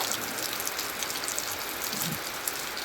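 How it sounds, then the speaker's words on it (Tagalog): Steady rain pours down in a constant, even hiss, with soft patter on surfaces close by and no voices. "kanina pa itong ulan na ito. Walang tigil. Walang tigil ang ulan."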